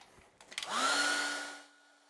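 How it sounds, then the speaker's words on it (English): A hair dryer is switched on to dry a watercolour painting, clicking briefly before its whirring blow spins up to a steady, close, moderately loud tone that fades toward the end. "I'll get the hairdryer."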